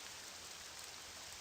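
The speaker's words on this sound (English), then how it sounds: "I can't hear over the dang rain." Steady rain hisses through the Morrowind game world, a dense, even wash of falling drops that stays faint and unbroken from start to finish, with no voices over it.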